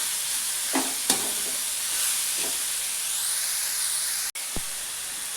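Chopped onion greens frying in a pan, a steady soft sizzle and hiss broken by a few light stirring scrapes, close and alone with no talking.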